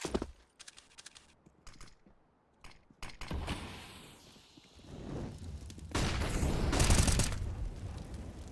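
Bursts of gunfire from a competitive first-person shooter esports match, with sharp shots scattered early on and louder, denser firing building toward the end, heard up close without talk.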